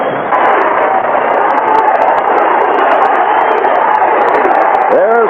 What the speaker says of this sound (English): There's what the crowd is yelling about.